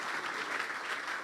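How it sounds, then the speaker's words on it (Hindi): Steady, dense applause from a church congregation at a Hindi-language sermon, continuous and fairly close, filling the short moment without any voices. "तालियां बजा दें यीशु के कलाम के लिए।"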